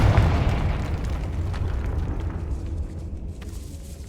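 A Confringo spell explosion in the video game Hogwarts Legacy erupts with a loud, deep boom that rolls into a long, fading rumble.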